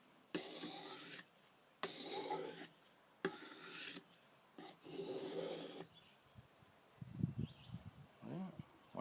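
A knife blade drawn across a sharpening stone in four long, even rasping strokes with brief pauses between, followed by lighter scraping and handling sounds, fairly close and quiet with no talk.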